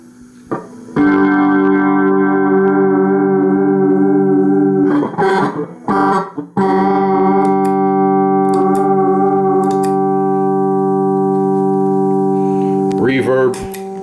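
Sustained chords strummed on an acoustic guitar through a Marshall AS50 acoustic amp with the chorus effect on, ringing and shimmering for several seconds, broken by a short pause of muted strums before ringing out again.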